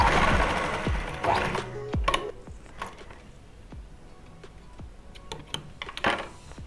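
A sewing machine stitches a patiala salwar, with bursts of rapid mechanical clatter broken by sharp clicks and short pauses, close and fairly quiet.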